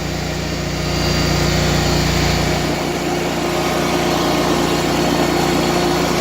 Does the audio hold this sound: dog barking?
no